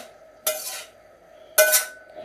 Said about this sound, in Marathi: आणि आधी आपण मिक्स करूया ही भाजी